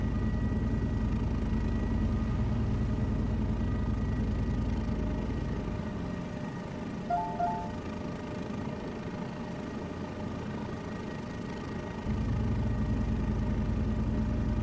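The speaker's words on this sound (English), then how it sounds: "What's that weird rumbling sound when you get near the ground?" A helicopter hovers near the ground in the flight simulator MSFS 2024, giving a steady low rotor rumble and engine drone that dips partway through, then resumes at a constant level.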